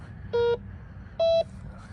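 Two short electronic signal tones from an OMMO MD-7011 metal detector in all-metal mode, a lower beep then a slightly higher one, clean and close over a low outdoor background rumble.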